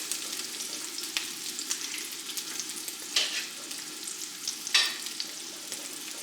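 Bacon, lard and sausage frying in a pan over medium heat, with a steady close crackling sizzle and sharp spits and pops from the fat, plus a couple of louder bursts, with no voices.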